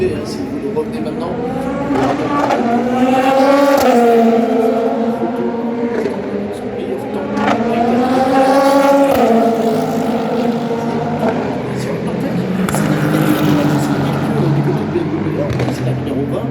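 Le Mans 24 Hours race cars in free practice, engine notes sweeping up and down in pitch as they pass, loud and sustained beneath ongoing commentary.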